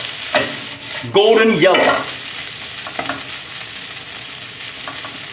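Rice is stir-fried with curry powder in a wok for spicy Chinese curry fried rice, giving a steady close sizzle and stirring with sharp scraping spatula strokes, while a voice speaks briefly over the cooking.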